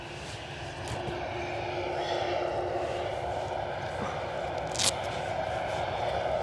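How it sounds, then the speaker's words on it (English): A KLM airliner taxis onto runway 06 at Edinburgh Airport, its jet engines a steady, moderately distant roar with a low rumble throughout and a brief sharper click near the end. "KLM, just taking the active, ready to go back to Amsterdam."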